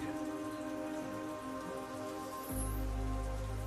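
Steady rain falls in a rainy season downpour, a constant even hiss with a low rumble joining partway through, with no voices.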